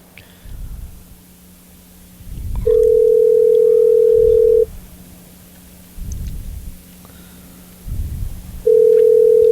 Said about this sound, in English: how many more rings should we give them?